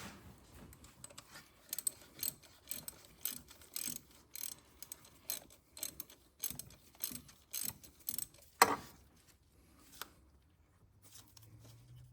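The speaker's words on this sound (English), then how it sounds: "And let me grab a ratchet. All we're gonna do, very, very gently snug these down because we're gonna torque them." A hand ratchet clicks in repeated short bursts while gently snugging bolts down on the valve body of a Subaru SJ Forester TR580 transmission, close up and with no talk over it.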